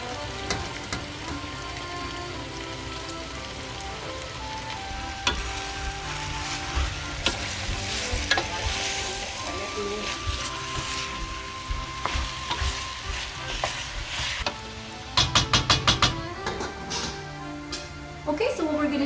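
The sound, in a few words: codfish frying with caramelized onions in a pan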